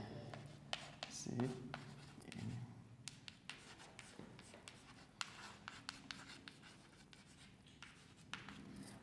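A pen or marker writes code by hand in a programming lesson, giving a steady run of close scratching strokes and taps over faint room noise.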